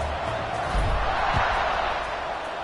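Stadium crowd murmuring and roaring before a kickoff in College Football 26, San Diego State at California, a steady wide wash of fan noise that swells slightly midway, with faint low thumps underneath.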